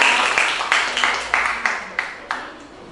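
Classroom audience clapping after a group presentation, a rhythmic series of fairly faint claps in steady time, roughly three per second, lasting throughout.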